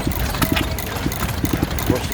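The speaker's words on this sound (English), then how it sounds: "we have a lovely British engine, a Ruston Hornsby" Vintage 1924 Ruston Hornsby open-crank stationary engine, 4 horsepower with a bottle governor, running at a steam rally with steady, evenly spaced low thumps and clatter, close by, beneath continuous background chatter of people.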